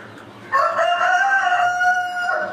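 A tall Sindhi-breed Aseel rooster crows once up close, a loud, drawn-out call starting about half a second in and trailing off over two seconds against a quiet farmyard background.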